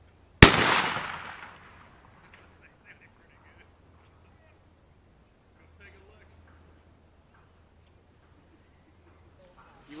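A single loud shotgun blast fired at a target outdoors, booming close and then decaying over about a second, followed by near silence with faint distant sounds.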